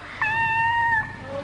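A cat meows once as a radio-show sound effect, a clear, drawn-out tonal cry lasting about a second, close and fairly loud, with a fainter rising note trailing after it.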